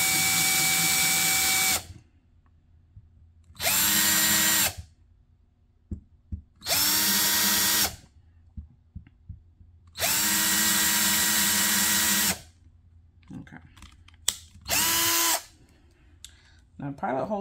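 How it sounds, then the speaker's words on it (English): A power drill bores pilot holes into a wood block for a balloon centerpiece base. It gives five loud, close whining bursts of about one to two seconds each, split by quiet gaps with faint handling noises. "drill your pilot hole."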